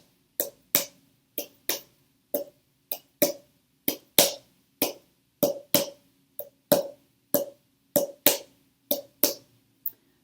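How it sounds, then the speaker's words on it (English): A hand slaps a cup played as a makeshift percussion instrument, giving about twenty sharp, hollow taps in loose pairs and singles, close and fairly loud over an otherwise quiet background. "I am going to hit this cup with my hand and the cup is going to make a sound."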